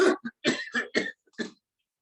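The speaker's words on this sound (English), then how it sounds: "Again, breathe in and cough again," A person coughs in a quick series of about six harsh bursts, close and clear, during a breathing and coughing exercise, then falls silent.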